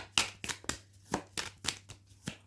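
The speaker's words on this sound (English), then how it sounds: "a couple of cards have tried to come out and then they've popped back in" Tarot cards being shuffled by hand during a reading, a steady run of crisp riffling bursts about every third of a second, close and clear with no talking.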